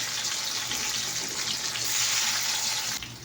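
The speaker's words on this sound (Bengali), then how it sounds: "এটা একটু ভেজে নিতে হবে।" Sliced bitter gourd fries in hot oil, giving a steady, close, moderately loud hiss like running water that drops away just before the end.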